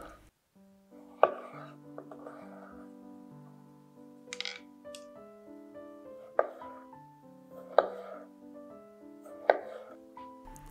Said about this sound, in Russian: Нарезаю один помидор.